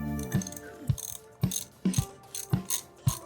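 The burr of a 1Zpresso JX Pro manual coffee grinder is disassembled in a series of sharp, close ratcheting clicks, about seven evenly spaced metallic ticks with no talking.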